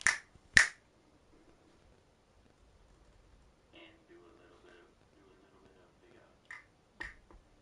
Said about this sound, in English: That was a weak clap.